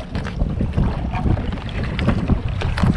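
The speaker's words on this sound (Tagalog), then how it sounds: "papunta rito yung hangin at saka alon" Strong Super Typhoon Julian winds and choppy waves batter a small fishing boat on Laguna Lake: continuous loud wind rumble on the mic with splashing water slaps.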